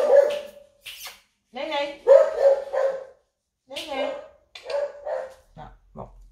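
A pet dog named Loulou barks repeatedly at someone at the door, sharp yapping barks in bursts with short gaps and a whimpering note, close and loud, with a brief spoken word among them.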